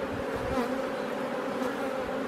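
Honeybees buzz in a dense, steady drone inside an open hive during a weekly inspection, with drones present among the workers; the hum is close and continuous, with no voices.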